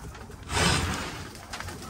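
Racing pigeons coo softly in a loft, a few low rounded calls swelling in the middle of the brief stretch and then fading, close by with no talk.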